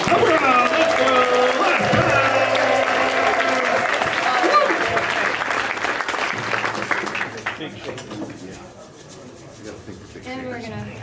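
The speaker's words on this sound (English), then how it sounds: "you guys are good at clapping, I know you are" Audience applause at an Ohana luau-themed cocktail contest by a lake, a dense wash of clapping that is loud at first and then thins out, with voices and crowd chatter mixed in.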